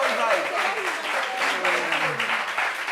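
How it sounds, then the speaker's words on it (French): Audience applause during a group meeting, clapping mixed with overlapping voices and cheering throughout. "Applaudissez pour lui."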